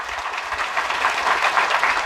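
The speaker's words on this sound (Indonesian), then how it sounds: "Tepuk tangan dulu nih." A burst of crowd clapping at a Hindu religious talk, dense and continuous, fairly close and steady for the whole short stretch.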